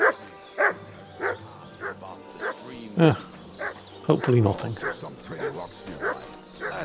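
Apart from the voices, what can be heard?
dog Mutt barking in video game Kingdom Come Deliverance 2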